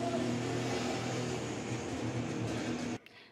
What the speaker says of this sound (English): our house is on the main road, so you can really pick up the traffic and everything and was like some bikes going on